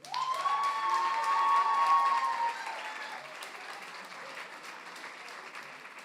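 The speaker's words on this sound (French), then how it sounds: "Je vous demande de faire un tonnerre d'applaudissements pour Monsieur Thierry Soulsavane" Audience applause at the Prix Jules Favre 2023 award ceremony, a loud burst of clapping with some cheering that swells over the first few seconds, then eases to a steadier, quieter patter.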